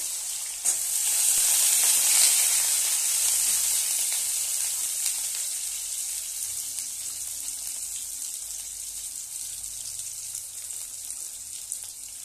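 Carrots hit a hot pan and set off a loud, bright sizzle that swells early, then settles into a steady hiss that slowly fades over several seconds, with a faint low knock or two beneath.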